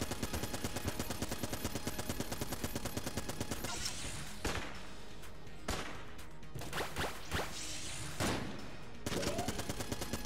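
Video game gunfire in the bullet-hell shooter Enter the Gungeon: a rapid, steady stream of shots for several seconds, then scattered louder blasts and bursts, closely mixed with game effects.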